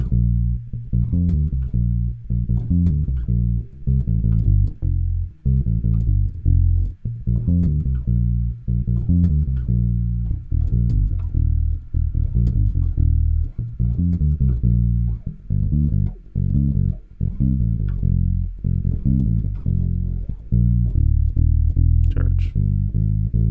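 Electric bass guitar playing the special fill pattern in a worship groove from a chorus medley, a steady run of solo low notes with clear plucked attacks in a moving rhythm, close and alone throughout.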